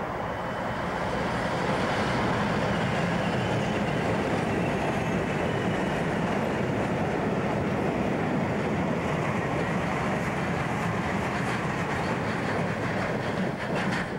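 A DRS locomotive numbered 2301 hauls a train through Helsby, a continuous rumbling roll with rail noise that holds steady throughout, heard close and with no voices.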